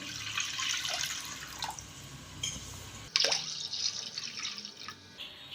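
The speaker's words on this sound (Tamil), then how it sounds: "ஒரு ஆறு டம்ளர் அளவுக்கு நம்ம தண்ணி சேர்த்துக்கலாம்" Water runs and splashes into a clay pot in a steady, close stream, with a brief break partway through before the pouring resumes.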